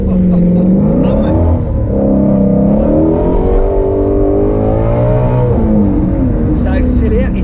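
A Ford Mustang Shelby GT350 accelerates and brakes hard, its engine droning and rising in pitch through loud sustained revs heard from inside the car, with someone talking over the motor.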